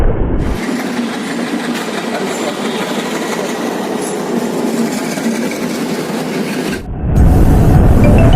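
A passenger train, the Darbhanga Express, rolls along the rails with a steady, loud rumble and rattle of carriages, then the sound shifts and swells near the end as it passes close by.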